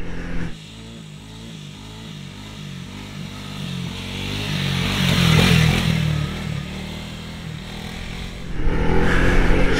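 A Honda CRF300L dual sport motorcycle revs up in first gear and pops a wheelie, its engine note rising near the middle and again at the end, fairly close.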